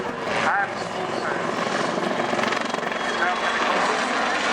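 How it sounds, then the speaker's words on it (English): Lynx or Bell 212 helicopter flying at the 2013 Cosford airshow, a steady broadband rotor and engine roar held at constant loudness throughout, with a commentator talking over it on the public address. "as well as training individuals to convert to the Lynx helicopter"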